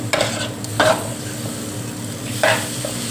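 Shrimp stir-fried with bird's eye chilies in a pan, a steady sizzle with a low hum beneath and a few sharp scraping stirs of a utensil.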